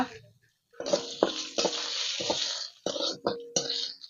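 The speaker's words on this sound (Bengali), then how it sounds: "আবারও কড়াতে খানিকটা ভেস্টিজের তেল দিয়ে দিচ্ছি কয়েকটা তেজপাতা দিয়ে দিচ্ছি কয়েকটা শুকো লঙ্কা" Bay leaves and dried red chilies dropped into hot oil in a wok, setting off a loud, bright sizzle broken by scraping stirs, stopping briefly and then flaring again.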